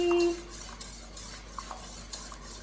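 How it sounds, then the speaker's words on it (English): A whisk scrapes and stirs a cheese sauce for chicken and bacon mac and cheese in a pot, rhythmic soft swishes with light metallic taps, close and steady, without talk. "So as you can see, I did not stop whisking"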